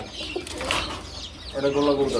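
Pigeons at a market stall flutter and coo up close, a soft burst of wing flaps followed by low throaty cooing, with people talking nearby.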